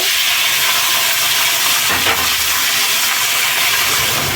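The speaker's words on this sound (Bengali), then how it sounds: "আলুগুলো ভেজে নেব।" Potatoes frying in hot oil for an egg and potato curry make a steady, loud, close sizzling hiss that runs unbroken throughout, with no talking.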